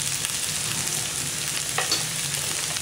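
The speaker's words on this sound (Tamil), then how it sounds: "லோ ஃப்ளேம்லேயே வந்து கொஞ்ச நேரம் வந்து எண்ணெயிலேயே வதங்கிட்டோம்." Potatoes and onions frying in oil on a low flame for a gongura potato fry, giving a steady close sizzle with a few brief stirring scrapes, no voices.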